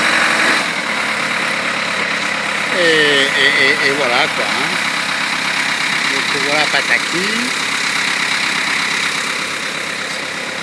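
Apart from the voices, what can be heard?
tractor engine running during boat launch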